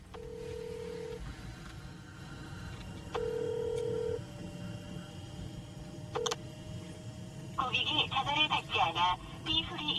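Steady telephone ringback tones sound in repeated long beeps, followed by a quick burst of touch-tone dialing beeps at the end.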